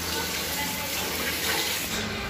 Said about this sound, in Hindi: चावल धो रही है अभी।